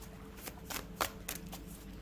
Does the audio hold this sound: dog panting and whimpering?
no